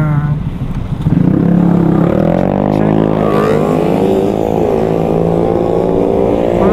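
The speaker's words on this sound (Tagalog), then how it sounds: "Ay, ano ba nakuha nila sa maingay na motor?" A loud, noisy motorcycle passes close on a road in the Philippines. Its engine drone swells in a rising, buzzing roar that stays strong and steady for several seconds.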